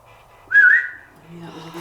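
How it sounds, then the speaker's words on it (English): A single short rising whistle, clear and fairly loud, followed by a low background hum. "I knew that was a whistle. Yeah, I heard the whistle."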